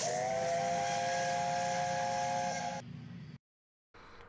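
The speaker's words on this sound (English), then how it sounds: "he and his crew heard 2 unfamiliar whistles" Two unfamiliar steam tender engine whistles near a station blow in a long, loud, steady tone over hissing steam, then cut off abruptly, followed by a brief silence and a faint hiss.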